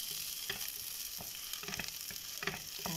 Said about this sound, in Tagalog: Antayin natin hanggang siya ay medyo mag-brown. Okay, haluin natin.